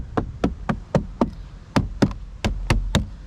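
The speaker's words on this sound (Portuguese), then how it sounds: "Tudo plástico duro. E ó, faz barulho, hein?" Knuckles rap on the hard plastic door trim of a 2014 Ford New Fiesta SE 1.6, giving eleven sharp, hollow knocks in an uneven quick rhythm, close and clear with no talk.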